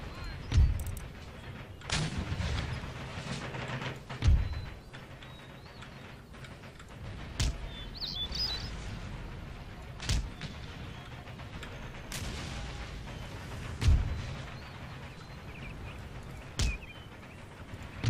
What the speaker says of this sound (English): Here comes those mortars.